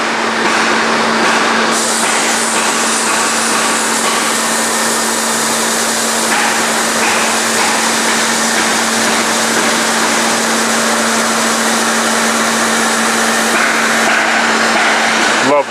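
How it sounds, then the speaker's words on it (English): A machine cutting mineral foam on a Model 204 gives a loud, continuous, steady grinding drone with a constant hum throughout, the cutting noise holding level for the whole stretch. "I'm gonna go a little more slowly here because I am cutting through more material"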